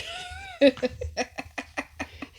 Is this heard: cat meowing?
yes